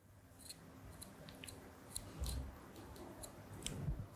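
Scissors snip a white thread on knitted fabric, a few faint, sharp clicks spread across a few quiet seconds.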